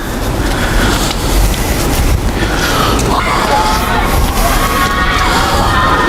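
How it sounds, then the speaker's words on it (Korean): Children shout and cheer in a continuous distant crowd roar while playing football at a school grounds, a dense steady wash of voices with wind-like noise throughout. "어디서 애들 소리가 들리는데?"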